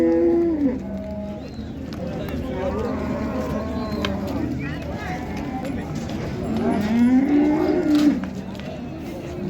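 Cattle at the Karshi livestock bazaar moo in long, drawn-out calls near the start and again toward the end, set against a busy market murmur and people talking.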